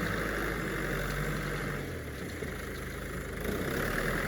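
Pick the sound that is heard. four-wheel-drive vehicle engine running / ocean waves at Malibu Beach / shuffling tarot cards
four-wheel-drive vehicle engine running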